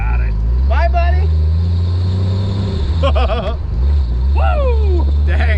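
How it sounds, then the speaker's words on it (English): Cheap older Jeep Wrangler driving with a squealing drivetrain; loud engine drone and road rumble inside the cab, with rising and falling squeals from the gears in several bursts while people talk and whoop. "Got a little squealing going on here."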